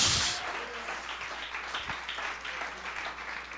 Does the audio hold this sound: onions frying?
no